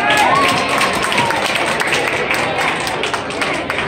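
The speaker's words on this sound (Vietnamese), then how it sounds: "Xin quý vị cho Nhi Lê một tràng pháo tay thật lớn." An audience gives loud, dense applause at a singing competition award ceremony as a prize is presented, steady clapping under faint voices for the whole stretch.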